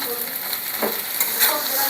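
Poha with red onion, turmeric and beetroot sizzles steadily in a pan while being stirred and mixed. The frying hiss stays even, with soft utensil scrapes.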